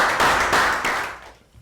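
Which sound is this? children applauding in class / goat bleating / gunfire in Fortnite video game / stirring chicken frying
children applauding in class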